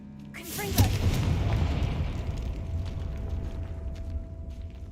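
A Confringo spell explosion from Hogwarts Legacy, a loud booming blast with a sharp onset followed by a long rumbling roar and debris-like crackle that slowly fades, near and dominant, with no talk.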